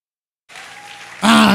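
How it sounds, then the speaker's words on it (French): A congregation at a Sunday church service claps. The applause starts after a moment of silence, then swells sharply louder, with a sustained tone beneath the clapping. "Ah, c'est comme ça qu'on acclame."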